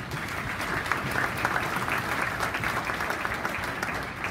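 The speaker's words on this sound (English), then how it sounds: "Join with me in giving yourselves a round of applause." An audience at a public education tour event in Tempe, Arizona applauds in a dense, steady burst of clapping lasting a few seconds, fairly close.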